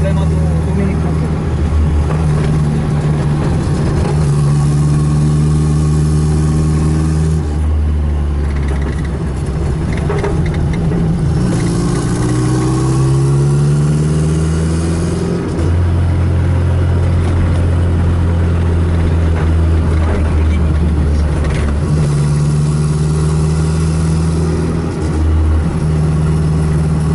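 A Mini Cooper engine idles loudly and steadily after a washer repair, its idle hum slightly unstable, with someone talking over it throughout.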